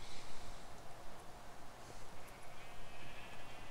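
Sheep in the video game Minecraft bleat faintly in a quiet scene, a few soft repeated calls in short bursts.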